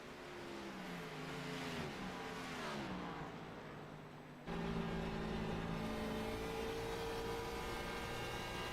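NASCAR Xfinity Series race cars at Dover, engines droning loudly with sweeping pitch changes as cars roll down the front stretch into turns one and two, a sharp jump in level midway as another car passes close.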